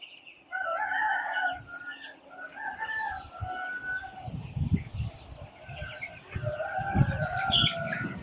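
Hens clucking and cackling on a Bangladeshi poultry farm with several breeds and young chicks, with steady overlapping calls and some low scratching and handling noises near the recorder.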